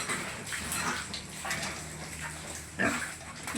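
Pigs grunting on a backyard pig farm, a run of several short, fairly faint grunts and snorts, with a louder grunt near the end and no talk.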